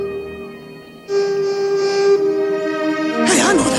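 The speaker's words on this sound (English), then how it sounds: "Hey, I know that whistle." Steam train whistle in the Trainz video game, a long sustained multi-tone blast that starts abruptly, holds steady and loud, then ends under a burst of voice and noise.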